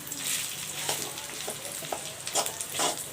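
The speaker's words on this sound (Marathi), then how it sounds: "तेलामध्ये छान अशी परतून होईल तर त्याला परतून घेते हे बघा आता असंच त्याला हलवत राहावं लागणार आहे" A steady sizzle of a dry fruit mixture sautéing in oil, with soft scraping and stirring strokes from a spoon recurring throughout, close and continuous.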